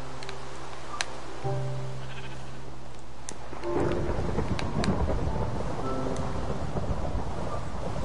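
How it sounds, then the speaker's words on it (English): Rain falls steadily under a rumble of thunder. The scene is quieter at first, then a dense hiss of downpour takes over partway through and continues to the end, with no one speaking. "Oh gosh, it is raining."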